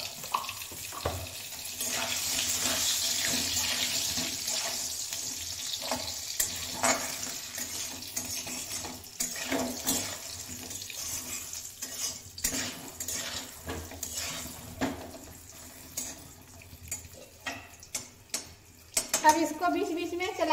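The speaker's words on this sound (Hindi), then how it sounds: "अब इसको बीच बीच में चलाते हुए पकाइए।" Pointed gourd (parwal) with salt and turmeric fries in oil in a pan, a close sizzle broken by scraping stirs and utensil knocks that grow sharper and clattery toward the end.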